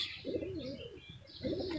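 A Bangladeshi pigeon coos softly in two low, rolling phrases, close by, with faint chirps in the background.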